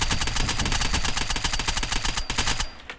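Rapid automatic gunfire in the survival shooter Unturned, a loud close burst of evenly spaced shots firing without pause for nearly three seconds before cutting off.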